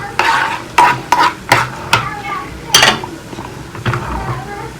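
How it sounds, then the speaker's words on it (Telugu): Spices tempering in hot oil in a pan for an Andhra vegetable curry: a soft sizzle runs underneath while a spoon scrapes the pan in about eight quick, uneven strokes close by. "అయ్యో చాలా తాలింపు వేసేయాల్సిందే."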